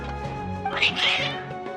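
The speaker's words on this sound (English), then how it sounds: "Your cats seem pretty worked up." Agitated cats in Genshin Impact meow and caterwaul in a rising, strained cry over a steady bed of background music, loud and close.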